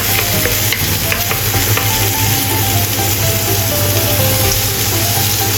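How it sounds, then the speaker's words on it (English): Chopped garlic stir-fried in a pan, a steady close sizzle of frying with the clink and scrape of stirring running throughout, no talking. "Stir-fry chopped garlic until fragrant."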